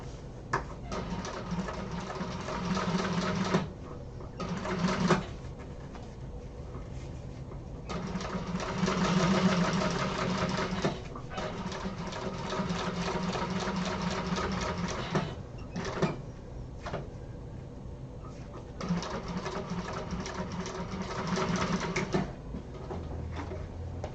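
A domestic sewing machine top stitching the exterior and lining of a bag, running in several bursts of steady rapid stitching separated by short pauses, fairly close and with no talk over it.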